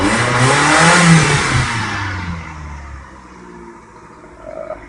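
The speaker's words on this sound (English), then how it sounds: "So let me rev it up some more." A 1994 Mazda MX-3 with a head gasket problem revs up loud and close, holds a strong roar, then eases down toward idle, with a slight rise again at the end.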